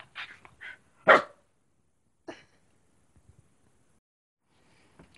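Dog barking a few times in short, sharp, fairly close bursts, with quiet gaps between and one louder bark standing out.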